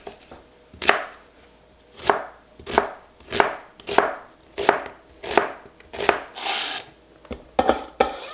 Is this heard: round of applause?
no